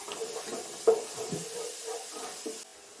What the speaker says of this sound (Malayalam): അതിൻ്റെ കൂടെ വെളുത്തുള്ളി ഇഞ്ചി ആണ് നന്നായി ഒന്ന് ഇളക്കി കൊടുക്കട്ടെ